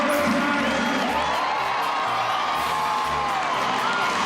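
A crowd cheers and whoops loudly at a motorcycle stunt show by daredevil Bubba Blackwell in Del Mar, California, a continuous roar with excited shouts throughout.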